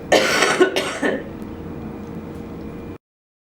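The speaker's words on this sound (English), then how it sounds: "you may feel the need to cough and clear." A couple of harsh coughs and a throat clearing come up close during a flutter-device breathing exercise, followed by a quieter stretch of background noise before it cuts off.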